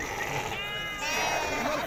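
Sheep bleating at a Tuesday livestock market in Azrou among ewes for sale, a wavering cry standing out over a loud crowd murmur and nearby voices.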